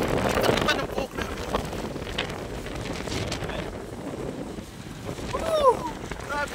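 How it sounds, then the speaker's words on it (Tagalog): Strong wind buffets the microphone outdoors in a continuous roaring rush with gusty swells, while a person's voice briefly sounds through near the end. "Guys, ang lakas ng hangin dito."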